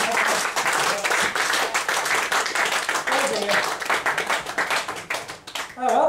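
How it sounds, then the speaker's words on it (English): Audience applause at a live mind-reading magic show, a loud round of clapping sustained for several seconds before thinning out, with a voice starting up at the very end. "Give her a round of applause as she goes back to the audience."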